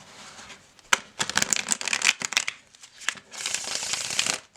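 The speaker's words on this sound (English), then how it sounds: "I think it shuffles pretty nicely" Shuffling of a rose-petal-edged tarot card deck, quick papery riffles and slaps in several bursts with brief pauses between, close and fairly quiet.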